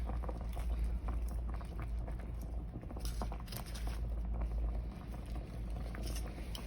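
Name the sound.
gravy boiling in pan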